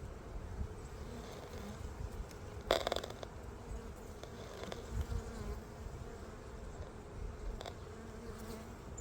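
Honeybees buzz steadily around a hive on a mild winter day, a continuous close insect hum with a brief louder burst as one passes near, no talking.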